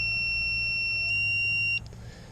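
A multimeter on continuity test gives a steady electronic beep while probing a resistor in a filtering network on a drone ESC board. The tone sounds close and clean, then cuts off, leaving faint background hum.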